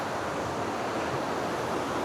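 River water rushing steadily beneath a wobbly suspension bridge on a woodland estate, a broad, continuous wash of noise that holds even and fairly loud throughout, with no voices.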